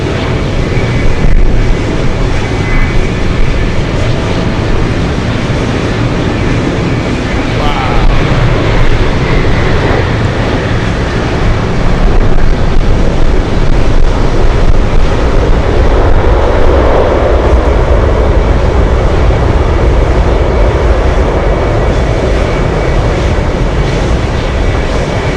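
Boeing 747 jet arriving at Anchorage airport in gusty wind, a loud, continuous engine roar with buffeting wind noise, swelling slightly midway and holding steady with no talk.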